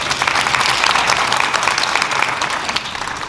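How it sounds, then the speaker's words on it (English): An audience at an outdoor community ribbon cutting gives a steady round of dense, loud clapping that carries through and eases slightly near the end. "Let's give one more hand clap."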